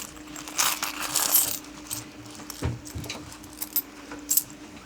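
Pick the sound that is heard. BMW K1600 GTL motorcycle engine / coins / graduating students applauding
coins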